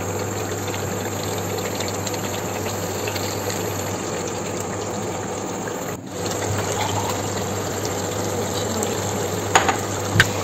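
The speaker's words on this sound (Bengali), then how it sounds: "এবার আমি এখানে সামান্য জল দিয়ে দিলাম।" Water poured into a pan of chicken curry masala makes a steady, continuous gushing and sizzling wash that holds evenly throughout with a brief dip midway, and no voices.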